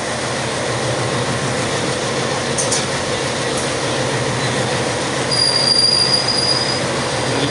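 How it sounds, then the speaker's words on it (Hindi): A double stack container train rolls along the railway near Botad, India, with a loud, steady rumble of wheels and wagons. A thin, high wheel squeal rises near the end as the train slows. "मेरी ट्रेन यहाँ रुक रही है, स्टॉपेज हो गई है"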